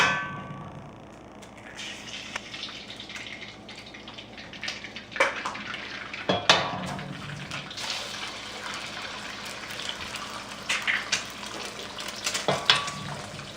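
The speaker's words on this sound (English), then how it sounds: "what I'm going to do is add the eggs first" Eggs frying in about a quarter cup of heated oil in a wok for Thai fried rice: a steady close sizzle with metal clangs of a utensil against the pan, and no talking.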